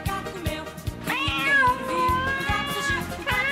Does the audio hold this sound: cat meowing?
yes